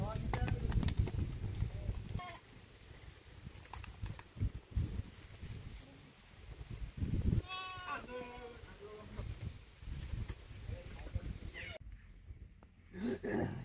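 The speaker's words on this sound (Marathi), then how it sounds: "मेंढी आली वावरात" Sheep bleat in a village field, several wavering calls in the middle stretch that are moderately close and partly under people talking over steady outdoor background noise.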